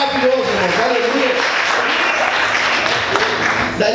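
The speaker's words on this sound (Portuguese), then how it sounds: "levanta a tua mão e adora e aplauda a Ele por isso" A church congregation applauds steadily, a dense, continuous wash of clapping that holds at an even level for the whole stretch, with voices mixed in.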